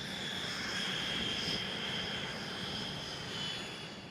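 An X-47B drone aircraft powered by a Pratt & Whitney F100 turbofan engine gives off a steady, even jet roar with a high whine running through it, holding a constant level throughout.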